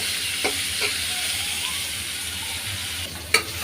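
Coriander leaves and green chillies fry and get stirred in a pan, a steady close sizzle with a few scraping clinks of the spatula, the loudest near the end.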